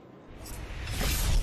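A NASCAR Cup race car sweeps around the oval at Texas Motor Speedway, its roar swelling from a distant rush into a loud, broad engine sound over about a second and a half.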